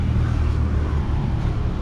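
Inside a moving Grab ride-hailing car in Can Tho, Vietnam, a steady low engine and road rumble, loud and constant, with no voices.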